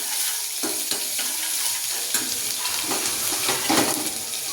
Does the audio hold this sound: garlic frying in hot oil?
yes